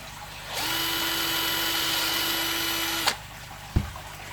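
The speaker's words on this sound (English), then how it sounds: "don't push hard, just let this cut its way in, you've got a nice smooth hole then" A drill bit bores a smooth hole through the plastic wall of a water dispenser, a steady high whine for about two and a half seconds that stops abruptly, then a sharp knock.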